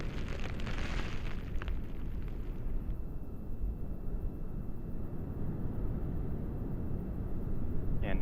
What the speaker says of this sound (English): Burn profile on the solid rocket motors appears to be within family.